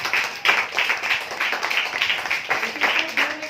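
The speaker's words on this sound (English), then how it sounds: "clap that girl" A classroom of high school students claps for a girl who answered well, a dense patter of many hands filling the room at steady strength for several seconds.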